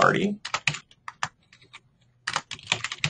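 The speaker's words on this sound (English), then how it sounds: "we're going to type birthday" Typing on a computer keyboard, a series of quick clattering key presses in bursts with brief pauses, close and clear, with no talk over it.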